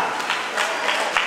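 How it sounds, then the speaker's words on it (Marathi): Audience applause at a community prize-giving event, a steady spread of clapping with a few louder bursts, moderately loud and continuous. "हा टाळ्या जोरदार द्या."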